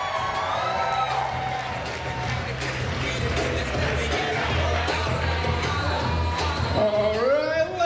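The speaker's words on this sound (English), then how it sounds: "How about a big round of applause for Stephanie McCormick and Chris" Wedding guests cheer, whoop and applaud for a couple during the reception, a loud continuous crowd roar with shouts over it.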